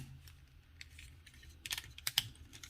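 Plastic legs of a Transformers toy being folded in, giving soft clicks and then a few sharp snapping clicks near the end, close and quiet with no talking.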